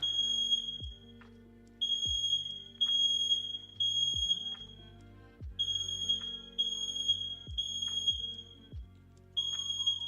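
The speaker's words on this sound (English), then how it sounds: "Fucking fire alarm." Fire alarm going off indoors, a loud, shrill, high-pitched tone sounding in repeated long bursts with short gaps, alongside lower percussive music beats, close and persistent.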